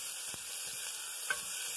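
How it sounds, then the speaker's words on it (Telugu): Pieces of ginger and carrot fry in a pan with a steady, hissing sizzle, broken by a couple of faint stirring taps. No voices are heard. "అల్లం, క్యారెట్ ముక్కలు, ఇవన్నీ ఫ్రై అవ్వాలి."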